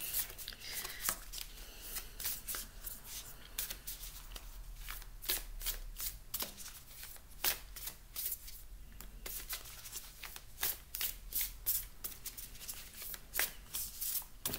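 Oracle cards are shuffled continuously at close range, a steady run of quick papery riffles and slaps with brief pauses, with soft talking faintly in the background.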